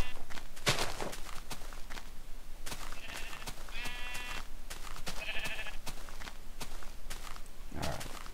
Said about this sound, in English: There's a lot of sheep over here too.